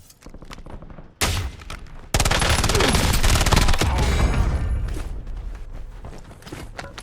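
VST rifle hip fire in the Warzone video game: a burst of loud, close gunshots, then a dense sustained volley of rapid fire that slowly fades, with a faint voice under it.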